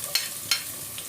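Ginger then garlic sautéing in a pan, a steady soft sizzle broken by two sharp stirring scrapes and a fainter third, close and without talk.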